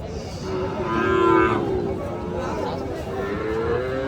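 A Sahiwal bull lows at a Ranigonj cattle market in Bangladesh, one long rising moo near the start over steady crowd murmur and background talk.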